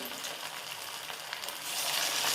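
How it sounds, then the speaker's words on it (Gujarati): Oil sizzles and crackles steadily as fasting-style vada fry on a raised gas flame, a hissing bubbling that grows louder toward the end, with no talking. "ધીમે ધીમે આપણે વડા તળીશું"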